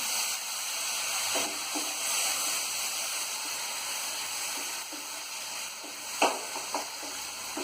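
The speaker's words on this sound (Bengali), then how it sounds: "বাটাটা একটু ভাজা করবো।" Tomato paste sizzles and crackles steadily in a hot pan, a constant hissing with occasional scraping stirs near the end.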